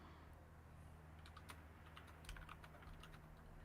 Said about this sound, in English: Oh, Manny's typing.